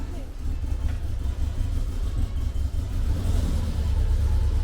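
An old car engine, just started after sitting unused for seven years, idles with a low, steady rumble, running slightly unevenly close by.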